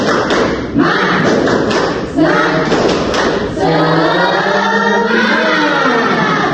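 A school class doing rhythmic 'tepuk semangat' clapping, a burst of many hands striking in a patterned beat, loud and close, mixed with children's voices chanting along.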